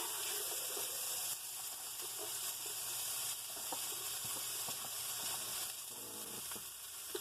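Fresh onion sizzling in a hot pan after pork ribs were removed, a steady hiss and crackle close by with scattered small pops throughout, and no voices.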